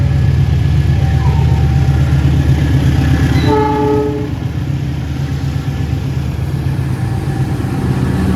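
A train rumbles steadily past at a station, a loud continuous rolling roar with a short sustained horn blast sounding partway through.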